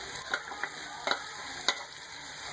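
Chopped green chillies stirred as they fry in a pan for an egg vegetable paratha, a soft continuous sizzle broken by several sharp spatula scrapes and taps.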